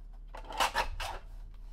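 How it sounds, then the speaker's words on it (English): A paper trimmer slices a quarter inch off the edge of a greeting card, giving a few quick, close swishing strokes that rise and fall in about a second, over a low steady hum. "Let's get out my paper trimmer, and I'm going to trim off a little bit from each edge."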